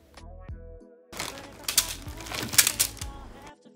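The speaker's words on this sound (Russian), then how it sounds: "Затем открываем пакет и вытряхиваем сухарики на противень." Dried bread crackers are shaken from a bag onto a paper-lined baking tray. After a brief voice, the crackers fall in a loud, rattling, clicking clatter for about two seconds before it stops.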